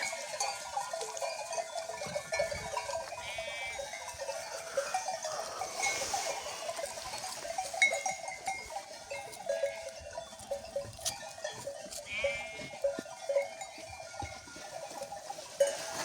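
A flock of sheep and lambs bleating repeatedly at varying distances in a village pasture, with clanking bells and a murmur of outdoor background noise.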